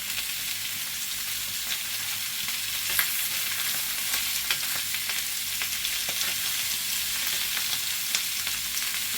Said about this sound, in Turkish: Burada sadece mühürleme işlemi yapacağız haşlamadan önce